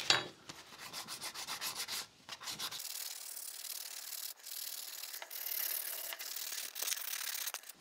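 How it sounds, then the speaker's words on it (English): Soft, steady rubbing and scraping as an epoxy clay (Magic Sculpt) rat sculpture is sanded by hand, close and quiet, in uneven back-and-forth strokes with brief pauses. "are going to sand down pretty quick without too much effort."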